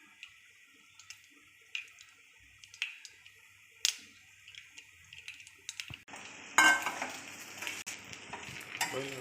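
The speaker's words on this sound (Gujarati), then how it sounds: "રાઈ રાઈ તતડી જાય એટલે એમાં નાખીશું તલ સફેદ તલ" Mustard seeds and white sesame seeds crackle in hot oil in a pan for Gujarati doodhi muthiya, starting as sparse pops and snaps, then bursting into a dense, loud sizzle with rapid crackling near the end.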